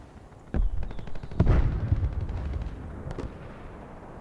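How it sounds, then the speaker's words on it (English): Rockets land and explode in the War Thunder video game, with a sharp blast followed by a heavier rumbling burst and a few fainter cracks, fairly distant and booming. "There's the rockets landing."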